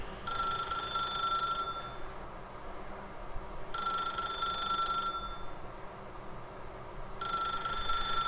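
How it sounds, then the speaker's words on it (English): A telephone rings in repeated bursts, three electronic trills separated by pauses, moderately loud over a low background hum with no talking. "I'm not answering the phone."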